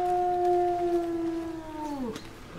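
A dog gives a single long, sustained howl up close, holding a steady tone before sliding downward and breaking off near the end, with no talking over it.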